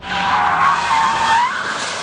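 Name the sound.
Rolls Royce car drifting, tires skidding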